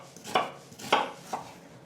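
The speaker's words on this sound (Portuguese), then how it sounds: "vamos então cortar a cebola primeiro" Knife chopping onion into brunoise on a cutting board: three distinct chops about half a second apart, close and fairly crisp, with no talk.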